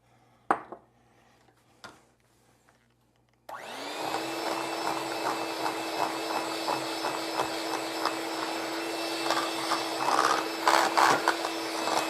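An electric mixer beats cake batter as dry ingredients and cocoa powder go in, starting abruptly after a few light clinks and then running as a steady, close whir with faint knocking against the bowl.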